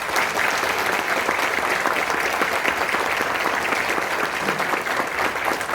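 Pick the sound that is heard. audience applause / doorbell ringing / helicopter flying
audience applause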